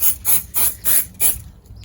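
Wonder Wheels sealant sprayed onto car alloy wheels in five quick, close hissing bursts at an even rhythm, followed by a brief quiet pause.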